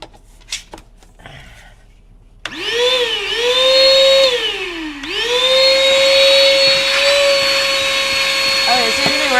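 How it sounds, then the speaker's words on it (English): Vacuum cleaner used during a family car wash in Las Vegas, its motor starting abruptly and whining loudly, pitch dipping and wavering as something clogs the hose, then steadying to a sustained high drone close by. "I think something's stuck in the vacuum."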